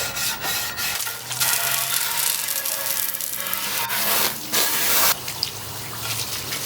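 220 grit sandpaper scrubs over a Technics part in quick back-and-forth rubbing strokes, close and fairly steady, with a few short pauses between passes.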